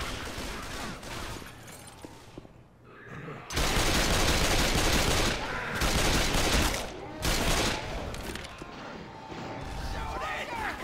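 Sustained bursts of gunfire from the zombie shooter Left 4 Dead 2, loud and dense with brief lulls between volleys, while players shout over the shooting.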